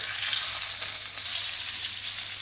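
Steak frying in a hot pan, its fat edge turned down to crisp, giving a dense, continuous loud sizzle that holds steady from start to finish, close up, with no talking.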